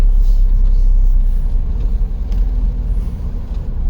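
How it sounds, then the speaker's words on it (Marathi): Jammed city traffic: a heavy, close low rumble of idling and creeping cars and larger vehicles, steady and loud with slight swells, no clear voices. "सगळं शहर जाम करून टाकलेलं आहे ट्रॅफिक करून टाकलेले सगळीकडे"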